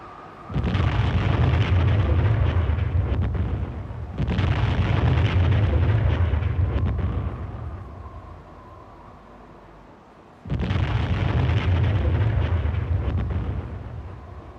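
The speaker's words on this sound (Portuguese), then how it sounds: "Na madrugada do 9 de abril, às 4h15, inicia-se um violento bombardeamento" Violent WWI artillery bombardment at the Battle of La Lys, heavy booming blasts that merge into long rumbling bursts, fading briefly before a fresh loud barrage, with no talking.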